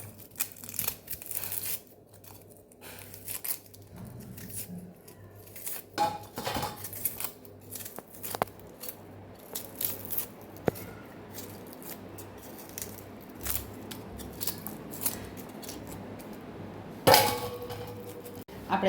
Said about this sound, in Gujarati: તો અહીં આપણે બધી ડુંગળીને છોલી લઈશું.